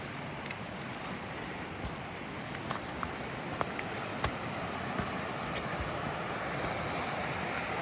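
A river running high through snowy winter woods, heard as a steady broadband rush of water close by, with wind buffeting the microphone and a few faint knocks over the constant flow.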